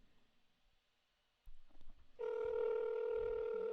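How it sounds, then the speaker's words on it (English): A telephone rings through a handset on a low-tech call, a steady electronic tone coming in after faint, scattered noise and a few clicks. "Can you hear the phone ringing?"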